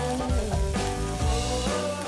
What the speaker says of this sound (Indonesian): Kita jajarin di atas panggangan sate.